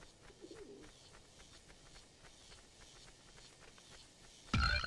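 Game pigeons coo in a short low warbling burst near the start of an Asterix at the Olympic Games level on PlayStation 2, set against steady ambient game background noise and followed by a sudden loud effect at the end.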